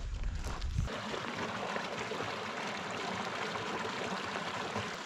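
Creek in the Sierra backcountry of the Golden Trout Wilderness, its water rushing and burbling in a steady, close wash that runs unbroken throughout, with a brief low thump at the start.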